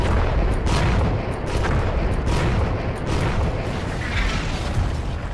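A futuristic anti-tank weapon turns through 360 degrees while firing, a dense, continuous roar of heavy blasts and booms with mechanical rumble underneath, loud and close throughout, with no voices.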